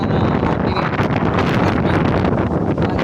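Strong, steady wind roars and buffets the microphone throughout at a campsite in Zambales, a loud continuous rush with no voices.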